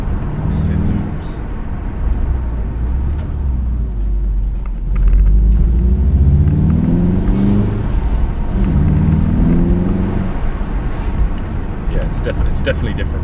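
A Volkswagen Golf R engine in normal drive mode, a steady low rumble of the running car that swells slightly midway, with a voice talking over it throughout.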